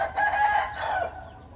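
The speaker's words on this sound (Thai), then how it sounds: "เจ้าเหลี่ยมเพชรผมตั้งชื่อ ให้ ไก่มีเหลี่ยมตีตัวนี้" A fighting rooster, a gamecock, lets out one clear crow close by, rising and then trailing off over about a second, with nothing else around it.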